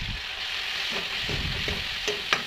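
Cumin seeds frying in hot oil in a pan for a dhaba-style paneer masala curry, a dense, loud, steady sizzle with light scraping stir strokes and a small clink near the end.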